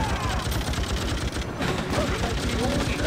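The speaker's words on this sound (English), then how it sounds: "I can't even shoot. I'm shooting my own teammates." Rapid bursts of gunfire in the Freedom Fighters NES-style video game, a dense, continuous rattle of overlapping shots close up, with only a brief lull midway.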